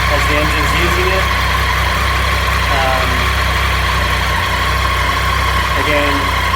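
A Triumph Tiger 800 motorcycle engine idles steadily and close by during an oil and filter change, with brief bits of voice over the constant low drone.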